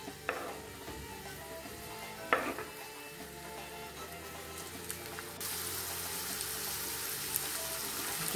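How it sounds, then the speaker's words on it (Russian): Chopped onion frying in a well-heated pan, giving a steady sizzle with occasional stirring scrapes and clicks, close and moderately loud throughout, with no talking. "Лук нарезаю не крупно и теперь его обжариваю в хорошо нагретой сковороде."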